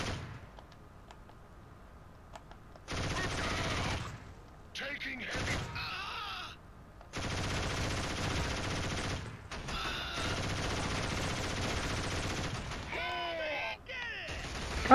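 Gunfire in the Killzone first-person shooter video game, bursts of rapid automatic fire in several stretches separated by short pauses, with brief mechanical clicks between them and a faint voice groaning.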